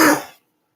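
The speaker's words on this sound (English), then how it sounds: "Man, I can't stop coughing." A single sharp cough close by, fading quickly into silence.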